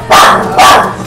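A dog barks twice, close and loud, each bark a sharp burst with a short gap between them, heard alone without talk.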